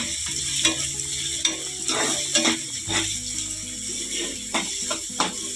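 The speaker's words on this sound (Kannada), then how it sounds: "ಇದು ಸ್ವಲ್ಪ ಬ್ರೌನ್ ಕಲರ್ ಬರೋ ಗಂಟ ಫ್ರೈ ಮಾಡ್ಕೋಬೇಕು." Ingredients fry in a pan for egg curry while being stirred until brown, a steady sizzle with a regular rhythm of scraping and clinking utensil strokes about every half second.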